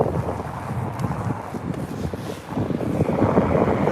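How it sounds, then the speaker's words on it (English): Wind rushes past while riding an electric mountain bike on streets, a loud, steady broadband buffeting across the microphone that swells slightly toward the end, with no talk. "That wind on my back's going to be a whole different thing."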